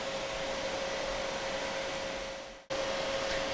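Refrigerant reclaimer running while pulling refrigerant out of a Maytag refrigerator, a steady loud motor drone with a constant tonal hum that dips and briefly cuts out before resuming.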